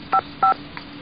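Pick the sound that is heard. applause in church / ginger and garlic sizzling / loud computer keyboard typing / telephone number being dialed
telephone number being dialed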